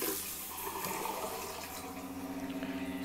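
Running water pours steadily from a tap or similar source, a continuous splashing wash with a faint rumble underneath, close and fairly quiet throughout.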